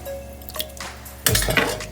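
A soft liquid slosh and drip, then a sudden wet splash and bubbling as a cracked egg slides into a swirled funnel of simmering water for poaching, close by.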